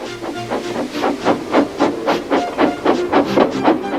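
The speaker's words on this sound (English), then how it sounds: "with much noise and blowing of steam, got ready to back onto the train" Steam engine Gordon hisses and blows steam in steady rhythmic puffs, loud and close, a continuous chuffing hiss with regular bursts and no talk.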